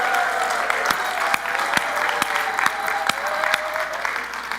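Church congregation clapping at a Sunday service, dense sustained applause from many hands filling the room with occasional sharper individual claps, continuous throughout.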